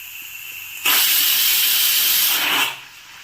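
Steam bursts from a pressure cooker releasing pressure through its lid, a loud steady hiss starting abruptly, holding for about two seconds, then cutting off, with no talking.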